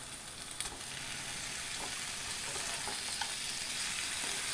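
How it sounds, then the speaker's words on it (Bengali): Chicken pieces frying in a pan with onion, garlic and spices for a Mughlai masala chicken, giving a close, steady, dense sizzle that holds evenly throughout with no talking. "এই সময় আমি এর মধ্যে দিয়ে দেবো চিকেনগুলোকেও আমি মশলার সাথে ভালো করে ভেজে নেব।"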